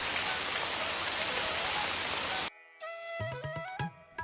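Steady rain hisses for a couple of seconds, then cuts off abruptly as other tonal sounds take over.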